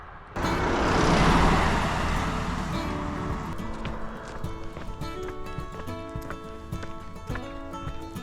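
A car passes on a mountain road during a hike on St. Kitts, a broad rush of tire and engine noise swelling early and then fading as it moves away.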